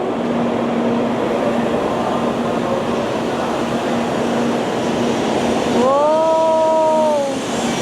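Shinkansen bullet train at a station in Osaka, a loud steady rumble and whoosh of departure with a brief rising tonal whine near the end.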